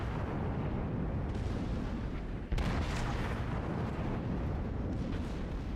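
A Fuso battleship's secondary guns fire at the destroyer Clemson in a naval game, with one sharp, heavy blast cutting through a constant low rumble of distant gunfire and sea noise. No voices are heard.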